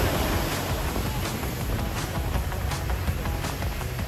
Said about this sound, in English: these waves are a little bit inconsistent